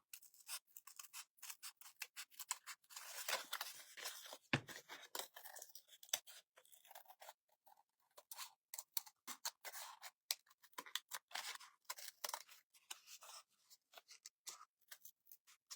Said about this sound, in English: I'm just going to cut this little heart out.